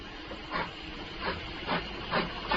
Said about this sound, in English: A steam engine.